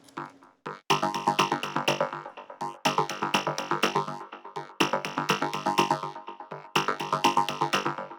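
Bright synthesizer notes repeat in steady plucky patterns, two layered lines interlocking, with brief pauses between phrases and no voices.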